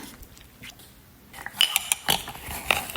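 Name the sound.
spoon scooping peanut butter into a dish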